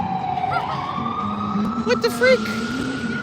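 An ambulance siren wails along a busy New York street on Broadway, its rising and falling tone steady through the clip amid city traffic noise, with a person briefly exclaiming over it.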